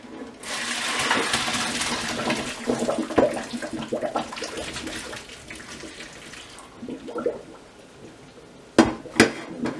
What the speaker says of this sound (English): now I'm going to strain out the water